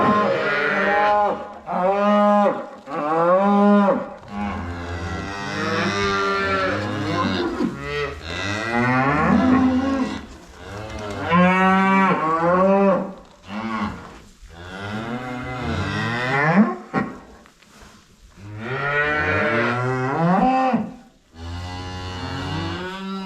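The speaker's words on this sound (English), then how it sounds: "So now we're gonna let the cows in, let them pair up." Cows in a full barn moo repeatedly and loudly as they are let in to pair up with their calves, overlapping calls one after another, close and drawn out.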